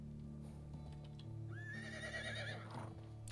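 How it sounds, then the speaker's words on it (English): A horse whinnies in the medieval survival game Medieval Dynasty: a rising, wavering neigh about two seconds long, clear and fairly close, over a steady low background hum. "Come here, horsey."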